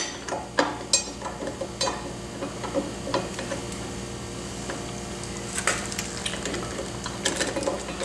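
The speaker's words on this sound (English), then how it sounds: "we're going to bring this one up here and we're going to put our bottom bolt in first" Brake caliper bottom bolt being threaded in during caliper installation, heard as scattered small metallic ticks and clicks, some sharp and close, over a steady low hum with no talk.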